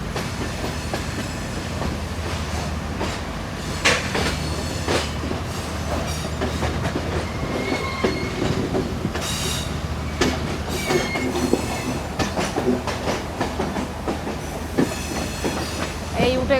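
The Jaffna to Colombo Intercity Express rolls onto a single line near Anuradhapura, giving a steady, close rumble of wheels with scattered clacks and faint squeals throughout.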